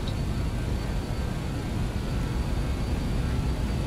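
Steady, loud engine roar of a BAe 146-200 four-engine regional jet at takeoff power during its takeoff roll in a flight simulator game, a dense continuous rumble with no voices.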